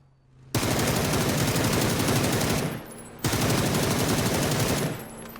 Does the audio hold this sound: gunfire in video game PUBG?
yes